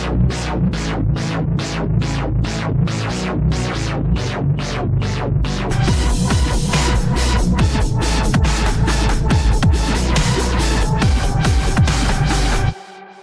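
Layered dubstep parts from several Massive synth instances: a steady pulsing rhythm of bass stabs that thickens into a busier, fuller pattern with dense highs, then cuts off abruptly at the end.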